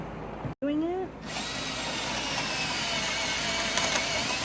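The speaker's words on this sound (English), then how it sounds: "next time keep drilling as you're going up" A power drill runs steadily during setup of a bridge structure for a 2024 haunted house, a continuous close whirring grind that starts after a brief gap and holds for several seconds, with people talking over it.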